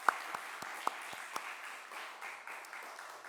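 Congregation applause in a church at a women's mission service, a quiet spread of clapping with a few sharper individual claps standing out near the start.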